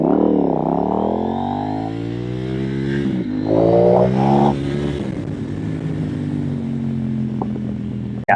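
A KTM Duke 890R motorcycle accelerating hard on a backroad, its engine note rising through the revs, dropping at a gear change, then climbing again, loud and close, with no talking.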